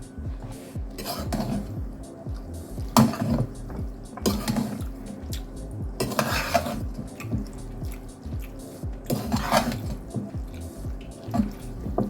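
A spoon stirs smoky bacon mac and cheese with two eggs in a pot, making repeated wet, squishy scrapes and occasional clinks against the pot at a steady, unhurried pace, close and fairly loud.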